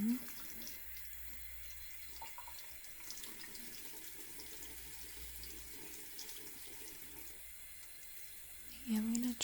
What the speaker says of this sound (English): I usually like to keep doing this until the water runs clean.